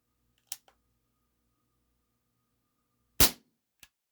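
An Umarex XCP CO2 air pistol fires 4.5mm pellets in two sharp, close pops about three seconds apart, each trailed by small clicks, in an otherwise quiet room.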